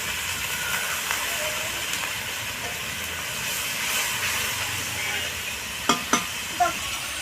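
Water splashed into a hot pan of cumin and chili powder gives a loud, steady hissing sizzle throughout, with a few sharp clicks and pops near the end.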